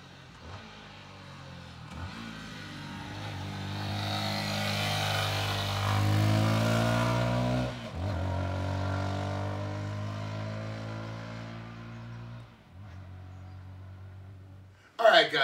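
An American Lifan KP200 motorcycle revs and accelerates close by, its engine tone climbing and dropping through several gear changes over a steady, loud drone.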